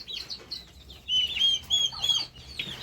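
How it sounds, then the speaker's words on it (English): Turkey chicks and chickens give a run of thin, high chirps and soft clucks, with a steady stretch of repeated peeps in the middle, fairly close and with no talk over them. "These were the turkeys."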